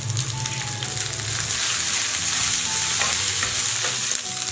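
Onion fries with curry leaves and coriander for a dosa chutney, a dense close sizzle with stirring scrapes and crackles running continuously, no talking.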